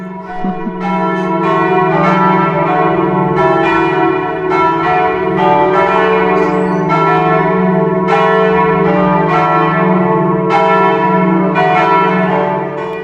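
Church bells of Senlis cathedral in France peal loudly and continuously, overlapping strikes ringing out in an irregular sequence over a sustained humming resonance, heard clearly with no talk.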